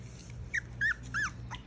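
Two-week-old puppies whimpering in a busy household, three or four short, high, rising-and-falling whines spaced about a third of a second apart over a low steady hum, fairly faint and close.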